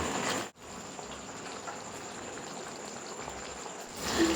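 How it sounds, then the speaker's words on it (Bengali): Khoira fish curry with mustard paste bubbles at a gentle boil, a faint, steady crackle of small bursts that drops out for an instant early on, with no voices. "সর্ষে বাটা দিয়ে কিন্তু দু থেকে তিন মিনিট আমি ফুটিয়ে নেবো"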